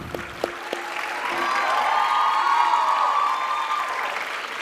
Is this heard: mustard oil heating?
no